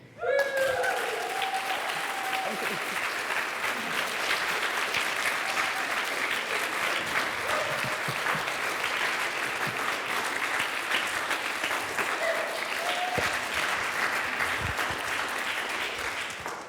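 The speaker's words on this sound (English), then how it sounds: "Let's have another round of applause." Sustained audience applause fills a talk at the Centre for Alternative Technology in Machynlleth, steady and dense throughout, with a brief whoop or cheer near the start.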